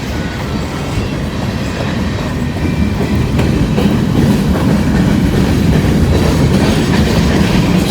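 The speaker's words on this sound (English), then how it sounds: "I got a feeling he's running so slow because he's going to switch tracks down at Brock." Freight train rolling slowly along the tracks, a loud, steady rumble with continuous clickety-clack of wheels and faint squeals, close by and with no talk.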